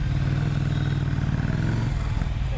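The exhaust of a Ducati Monster 797 motorcycle rumbles loud and close, a deep continuous burble during a test ride with no voices.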